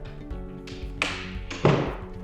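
An interior door in a house built in 2005, hung on replaced hinges, is swung shut: a few soft knocks lead to a firmer, close thud near the end, with a faint room hum between.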